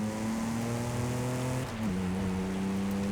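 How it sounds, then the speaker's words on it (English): A V6 SUV engine in Forza Horizon 5 holds a steady, beefy drone at constant revs, then drops to a slightly lower pitch partway through, sounding loud and continuous with nothing else over it. "it sounds pretty beefy. I think it's a V6, right?"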